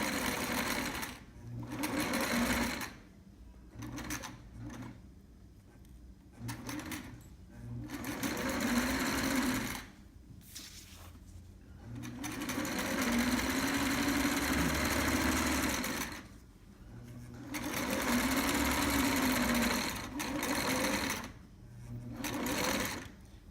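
A sewing machine stitching a trapper hat, running in repeated bursts of several seconds each with short stops between, the motor's hum rising and falling as the fabric is guided around a curve.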